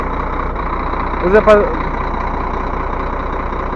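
A truck engine idles steadily at close range in a repair setting before the truck drives onto wooden blocks, with a constant low drone and someone briefly speaking over it.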